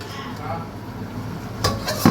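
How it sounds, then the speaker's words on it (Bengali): A lid lifted off a cooking pot of simmering chicken on the stove, two short metallic clanks near the end after a quiet stretch of kitchen background. "এখন আমি ঢাকনাটা খুলে নেব।"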